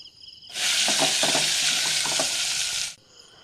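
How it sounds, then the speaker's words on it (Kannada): Chopped onions and curry leaves drop into hot oil and fry, a sudden loud close sizzle that holds steadily for about two and a half seconds and then cuts off, leaving a faint hum, with no speech. "ಈಗ ಹೆಚ್ಚಿಟ್ಟಿರೋ ಈರುಳ್ಳಿ ಹಾಕೋಣ. ಸ್ವಲ್ಪ ಬಾಡಿಸ್ಬೇಕು ಎಣ್ಣೆ ಒಳಗೆ."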